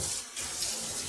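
Tap water runs steadily over Malabar spinach leaves being washed in a sink, a continuous close hiss and splash with no talk.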